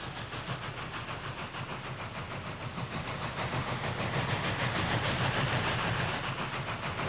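Union Pacific 8444 steam locomotive running: a loud, continuous rumble and hiss with a rhythmic chuffing pulse that grows stronger as it goes, with no voices over it.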